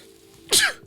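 A person sneezes once, close and sharp, a short burst with no talking.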